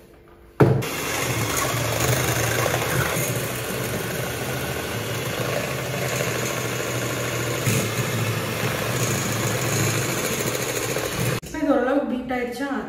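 Three eggs beaten for cake batter with an electric mixer, a steady droning whir that starts abruptly and runs close and even for about eleven seconds before cutting off, with talking afterward.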